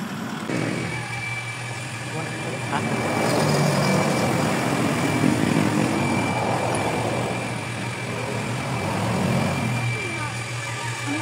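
A motorcycle engine drones steadily while riding along a road toward Apar Beach, the hum swelling slightly midway, with people talking over it throughout.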